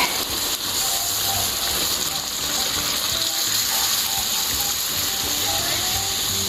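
Two cups of water pour steadily into a cooking pot for chicken caldereta, a continuous rushing gush that runs loud and unbroken from start to finish.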